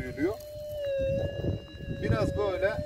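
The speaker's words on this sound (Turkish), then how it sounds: "Şu anda threshold, arka plan sesi bu şekilde duyuluyor." An Adrenalin Visionary Pulse deep-search metal detector hums a steady, faint threshold background tone, its thin pitch continuing under outdoor rustling and someone speaking nearby.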